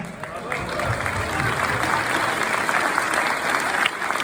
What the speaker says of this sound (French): On peut applaudir tous ceux qui ont fait la route déjà.